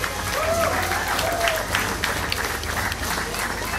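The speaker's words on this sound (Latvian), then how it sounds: "Aplausi Egitai!" Dense audience applause for the newly crowned Miss Elegance 2015 winner at a beauty pageant in Ogre, steady and sustained throughout with a busy crowd texture and a faint voice drifting over it.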